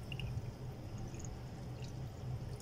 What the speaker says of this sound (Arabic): بعد ما حطيت عليه الميه السخنه